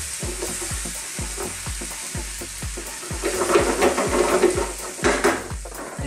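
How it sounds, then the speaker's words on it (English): Cream sauce being stirred vigorously in a pan over high heat for a lamb chop dish: a steady sizzle and frying hiss with regular, rhythmic scrapes of the spoon, growing louder toward the end, close and with no talk. "Now with cream, you have to keep stirring it quite vigorously. This is on a fairly high heat."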